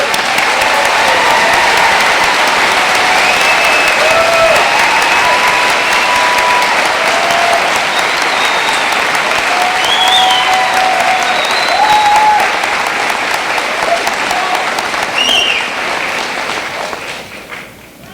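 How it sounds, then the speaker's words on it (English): A large crowd applauds the graduates at a college commencement, loud sustained clapping with scattered cheers and whoops that carries on for about seventeen seconds before trailing off. "Let's give our graduates a round of applause."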